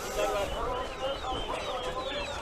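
Chickens cluck and squawk amid a busy, noisy crowd at an open-air livestock and poultry market in Antalya, Turkey, with voices talking in the background.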